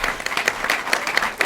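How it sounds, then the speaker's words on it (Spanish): Audience applause for a guitarist at a live music event, a brief burst of dense, close clapping from the crowd. "Fuerte el aplauso para él."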